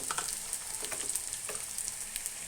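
Onions frying in a pan as spices go in, a dense continuous sizzle with light crackling up close and no talking.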